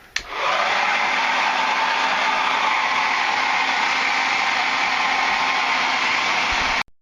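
A hair dryer blows steadily on hair, switching on with a click and running as a loud, even, close whoosh for several seconds before cutting off.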